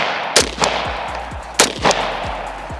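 Two quick bursts of rifle fire from a SIG MCX bump fired outdoors. Each burst is a few sharp, loud, close reports, and the shots trail off with echoes.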